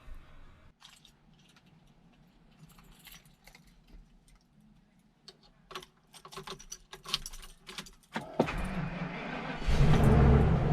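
An RV's first engine start of the season comes after several seconds of quiet keys jangling and clicks. The engine then cranks and catches into a loud, steady, close idle that fills the final stretch.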